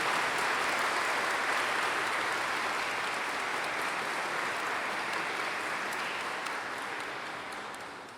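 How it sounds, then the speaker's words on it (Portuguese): Wedding guests in a church give a sustained round of applause for newlyweds Vinícius and Carolina, dense crowd clapping at even strength that fades slightly near the end. "Com uma salva de palmas, acolhemos o novo casal"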